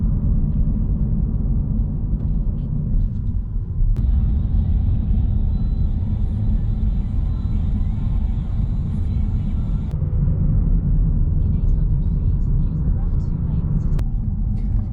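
Cars drive past on a Los Angeles street, a loud, steady traffic rumble that fills the whole stretch without a break.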